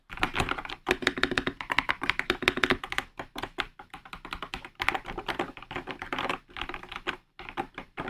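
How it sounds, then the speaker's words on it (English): Rapid typing close up on a Redragon Wyvern Pro full-size gaming keyboard, a steady stream of clicky keystrokes with brief pauses between bursts. "Let's now listen to the keycaps sound."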